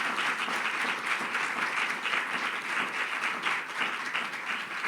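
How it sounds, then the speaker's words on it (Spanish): A church congregation applauds during a Bible study service, a steady, even wash of many hands clapping throughout, with no voices standing out. "denle un fuerte aplauso al Señor"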